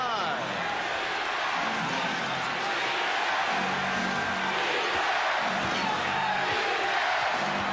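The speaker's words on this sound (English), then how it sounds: "And a defense from this foreign crowd" Basketball arena crowd at a 1991 NBA Finals game between the Bulls and Lakers, chanting for defense in a steady roar beneath play-by-play commentary, with rhythmic swells from the stands.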